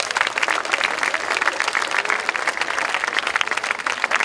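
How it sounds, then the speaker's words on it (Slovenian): An audience at a Slovenian evening performance event applauds for the sponsors, brisk and dense clapping sustained evenly throughout at moderate loudness. "Prosim za en aplavz za pokrovitelje"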